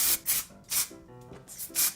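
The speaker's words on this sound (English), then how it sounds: "I'm gonna spray a little texture spray in here" Short bursts of texture spray hissing into hair, about four quick sprays in a rhythmic pattern with gaps between them, close and fairly soft.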